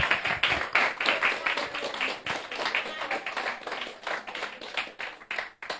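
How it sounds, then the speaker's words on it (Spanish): A church congregation claps together in praise during a Spanish-language worship service, steady rhythmic clapping filling the whole stretch with no voices. "Deme un aplauso al Señor"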